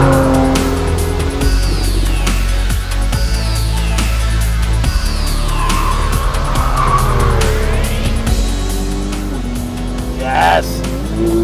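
A 400-horsepower Porsche 911 of the 991 generation revs hard toward 7,500 RPM with traction control off, its loud engine climbing and shifting while tires squeal and skid on track, close and continuous.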